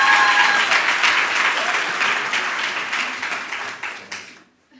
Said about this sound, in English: I think we can give a round of applause again to Ashley.